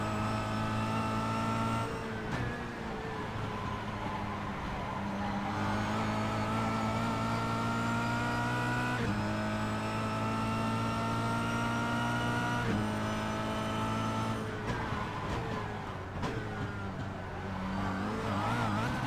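Kia Cup race car engine at Zolder circuit, heard from on board, revving hard through repeated gear changes with rising pitch sweeps and brief dips, loud and continuous.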